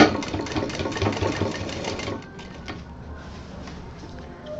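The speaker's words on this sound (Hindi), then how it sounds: "और फिर इस तरह से चढ़ाते हुए सिल दीजिए।" A sewing machine stitches piping around the corner of a handmade fabric cosmetic box, its rapid motor chatter loud and steady for two seconds before easing into a quieter, slower run.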